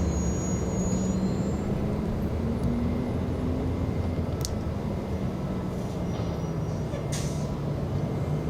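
An Airbus A321 jet takes off at LAX, a continuous broad roar that holds steady throughout, dense and moderately loud, with faint brief higher tones near the end and no voices.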